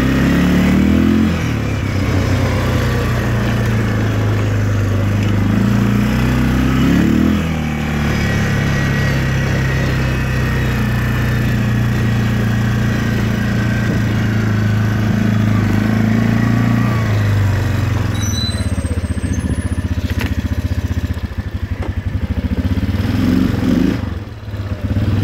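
A 2008 Yamaha Wolverine 350 2WD ATV engine runs loud and close with the choke partly on, a rough steady idle that swells in a few slow revs and settles back, continuous throughout.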